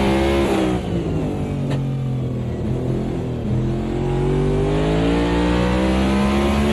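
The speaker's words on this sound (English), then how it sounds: "You can kind of hear him get on the throttle and immediately get out of it" A race car engine in a racing simulator drones loudly and steadily at Road Atlanta, its pitch rising and falling as the throttle is worked, with no voices.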